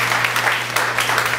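A church congregation claps in praise during a sermon, dense steady applause filling the room throughout, with a low constant hum underneath.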